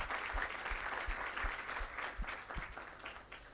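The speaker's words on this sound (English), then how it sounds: "A very big round of applause for our institute." An audience at a college innovation summit bursts into steady, sustained applause, dense clapping that stays full and fairly distant, then eases slightly toward the end.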